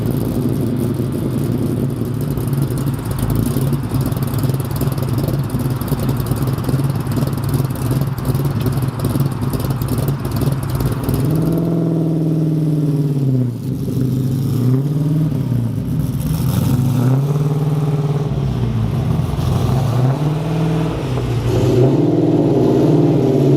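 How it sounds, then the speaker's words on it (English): An LS3 V8-swapped Nissan 350Z revs loud and close as it rips down a street, its engine note rising and falling through several hard pulls over a steady roar, with no voices. "Wanted to get a sweet shot of the car ripping down the street"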